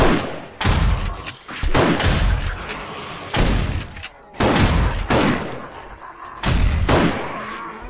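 Repeated loud gunshot bursts in the video game 7 Days to Die (Alpha 16.4), sharp blasts recurring every second or so with rumbling tails between them.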